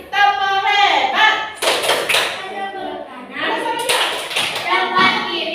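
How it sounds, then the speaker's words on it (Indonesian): Children in a classroom clap for the Matahari group, two bursts of fairly loud, dense applause breaking in between stretches of a teacher's voice and children's voices. "Kita berikan aplaus buat kelompok matahari."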